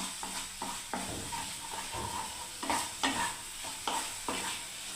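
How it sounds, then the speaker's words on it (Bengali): A mustard-almond paste gravy is stirred in a pan for a bhindi curry, a soft continuous sizzle broken by repeated scraping strokes of the spoon, close and quiet, with no talking. "দেখুন ভালো করে নেড়ে দিচ্ছি বন্ধুরা। সর্ষে বাদাম বাটা পেশাটাকে বন্ধুরা খুব সুন্দর করে করে দিচ্ছি গ্রেভি।"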